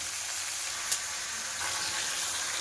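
Four green chillies roast in hot oil in a pan for a mushroom and paneer gravy, giving a steady, bright sizzle with a brief sharper spit near the start, loud and close with no talking.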